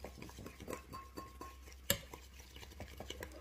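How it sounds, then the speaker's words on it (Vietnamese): A utensil stirs Indomie seasoning mix in a bowl, making quiet, close scraping and clinking sounds in an irregular rhythm, with one sharper clink partway through. "đánh cái gia vị này ra cho nó tan ra đây nha"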